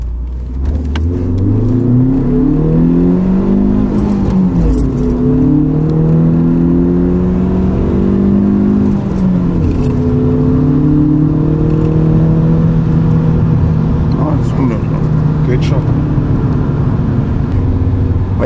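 A BMW E36 316i fitted with a short 4.44 differential pulls hard at full throttle, its engine note climbing steadily through the revs, dropping briefly at a gear change and rising again, loud and continuous with no talking.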